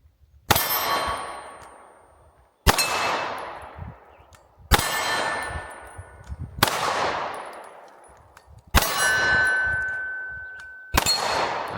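Six sharp pistol shots from a Canik MC9 LS ring off steel targets at an outdoor range, each a loud metallic clang with a long decaying ring, spaced about two seconds apart, no talk.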